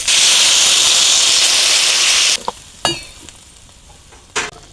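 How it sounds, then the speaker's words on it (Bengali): Green banana frying with chilli paste, turmeric and salt for a tilapia curry: a loud, dense sizzle and hiss suddenly cut off as broth is poured in, followed by quieter bubbling and a few clinks. "এখন দিয়ে দেবো ঝোল।"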